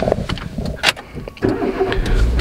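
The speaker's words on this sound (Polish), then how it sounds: "kartę wsuwamy, wciskamy sprzęgło, przycisk start" A Renault car starts with a key card and start button: a few mechanical clicks and a short cranking whir, then the engine catches about halfway through and settles into a loud, close idle.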